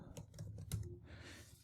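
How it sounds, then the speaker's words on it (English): Quick keystrokes on a computer keyboard while entering a name into a website feedback form, a short burst of light, close clicks that end in a soft trailing hiss. "if I start typing the name into the name input"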